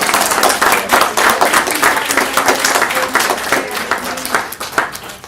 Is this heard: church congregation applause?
yes